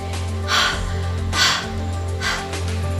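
A voice imitates heavy huffing and puffing for the letter H, three breathy puffs about a second apart over a steady low hum, fairly close and clear.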